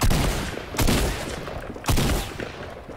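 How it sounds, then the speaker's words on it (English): A tactical shotgun fires in a video game, giving loud booming blasts, three heavy shots spaced about a second apart, each with a rolling tail. "Alright, I have a tactical shotgun."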